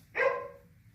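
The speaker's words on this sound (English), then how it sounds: "Sorry about the dogs." A single sharp dog bark rings out close by, then trails off into quiet.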